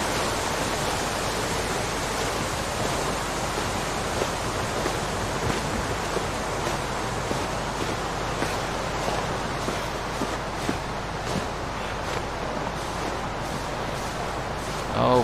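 Rushing water from a waterfall in the river valley of The Long Dark fills the scene as a loud, steady broadband roar that runs unbroken from start to finish.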